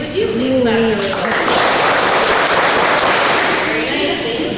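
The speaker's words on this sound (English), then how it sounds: "Audience, would you please clap the rhythm?" A school spring concert audience claps a rhythm together, a loud mass of hands that builds after a moment of talking and fades into speech at the end.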